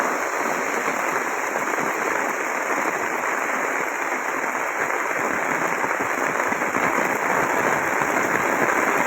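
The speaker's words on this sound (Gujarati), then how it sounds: "જોરદાર વરસાદ આવી રહ્યો છે રાજુલાની અંદર." Heavy rain pours steadily over rooftops and a terrace in Rajula, a dense, continuous hiss of water close by with no voices and no letup.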